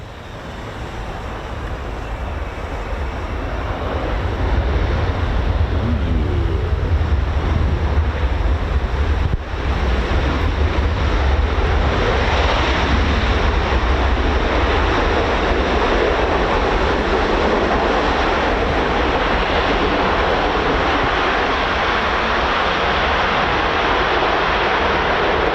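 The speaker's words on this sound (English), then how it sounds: "Oh no, it's a C-17" A Boeing C-17 military transport aircraft roars overhead at an air show, a loud, broad, continuous jet rumble that builds and then holds, thick with wind buffeting on the microphone.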